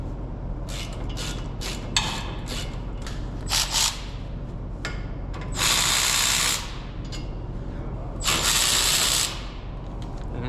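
18 mm socket ratchet breaking loose brake caliper bracket bolts: a series of sharp clicking ratchet strokes, then two longer bursts of rapid, hissy clicking as the bolts spin free, close and fairly loud with no talk.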